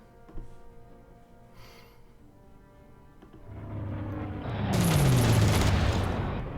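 Gunfire brings down a Lancaster bomber in the video game Panzer Corps, with a sharp early pop, then a swelling rush of firing and a loud, dense burst near the end.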